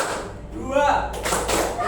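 A classroom of students claps a few sharp, scattered beats in a counting clap game, mixed with thuds and a teacher's voice over a low room hum.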